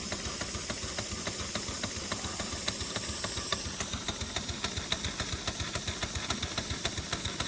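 A large authentic mill steam engine running on steam from a boiler at about 20, chuffing with a regular rhythmic beat that quickens slightly over a constant hiss, heard fairly close.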